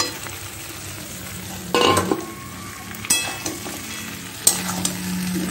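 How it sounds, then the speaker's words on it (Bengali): Fried fish heads are tipped into a pan of fried potatoes and rice for a Bengali muri ghonto, with a steady oily sizzle broken by a few sharp metal spatula scrapes and clanks against the pan, no talking. "ভাজা আলুগুলো মেশানোর পর এবার ভাজা মুড়োগুলো ঢেলে দেব"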